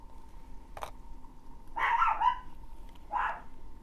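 A dog named Nessie barks a few times, short sharp yips at a moderate distance, spaced out over a quiet background with a faint steady hum.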